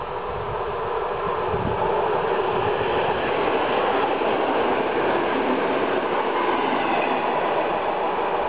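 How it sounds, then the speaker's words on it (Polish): An EN57 electric multiple unit runs over newly joined rails, a steady loud rumble of wheels on track with a broad rushing roar and no voices. "wspaniałe dźwięki szyn."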